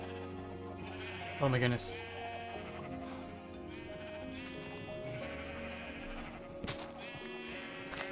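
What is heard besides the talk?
sheep bleating in the video game Minecraft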